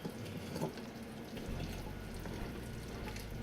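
A no-bake chocolate peanut butter cookie mixture boiling in a pot while being stirred, a dense continuous bubbling and churning wash heard up close.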